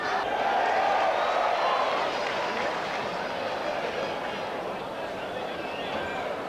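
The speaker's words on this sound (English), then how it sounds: "the cheers of the crowd a moment ago" Crowd noise at a football match at the International Sports Centre in Newcastle during a 1981 Newcastle KB United versus Preston Makedonia game, a broad steady roar of cheering that fades slightly.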